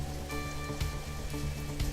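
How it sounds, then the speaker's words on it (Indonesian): Rain falling steadily on a surface, a dense patter of drops forming continuous hiss with occasional louder splats, with a faint low tonal hum running beneath it. "Cuaca hujan ditandai dengan turunnya titik-titik air dari langit"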